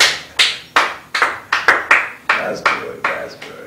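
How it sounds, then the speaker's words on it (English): Sharp hand claps, about a dozen in a loose, uneven rhythm, close and fairly loud, each with a short decay, at a comedy gathering. "I'm clapping."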